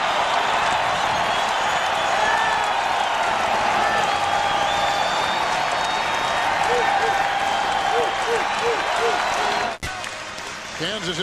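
Basketball crowd at Iowa State during a 2001 Big 12 game against Kansas, roaring with loud, sustained applause and cheering that fills the arena throughout, with an announcer's voice over it and a brief dip near the end.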